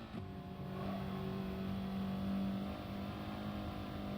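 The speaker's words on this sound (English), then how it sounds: "we can accelerate out very quickly. Make sure to rev out the fourth gear as you're going uphill." Race car engine revving hard through fourth gear while accelerating uphill on a circuit, a sustained rising drone held close and loud, easing slightly toward the end.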